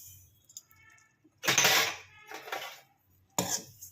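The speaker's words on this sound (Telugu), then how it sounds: "ఇప్పుడు నువ్వులు వేయించుకుందాం." Sesame seeds are dry-roasted in a pan, with quiet scattered clicks, then bursts of bright rattling and crackling as the seeds hit and shift across the hot metal.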